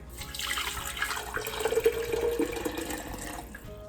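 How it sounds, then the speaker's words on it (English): Tap water pours into a jar holding salt for homemade refrigerator pickles, a steady rushing splash whose pitch climbs as the jar fills, close and alone. "So I'm going to fill the jar about 1/3 of the way up."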